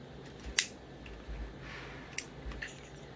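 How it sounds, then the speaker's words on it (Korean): Scissors snip leftover thread from a knotted bracelet: a sharp single cut near the start, then a couple of fainter small snips, close and quiet in a still room. "남아있는 실을 가위로 잘라줍니다"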